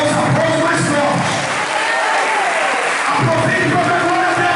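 A church congregation applauds together in a large worship hall, a dense, loud, sustained wash of clapping with a brief dip midway before swelling again.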